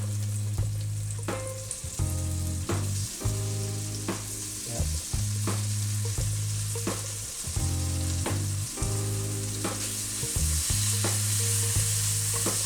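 Shredded tofu sizzles in a hot pan with oil while it is stirred, a dense, continuous frying hiss broken by scraping clicks, with a steady low tonal backing throughout and no talking.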